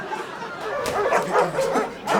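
Several dogs barking and yipping in quick repeated bursts, close and loud, overlapping one another.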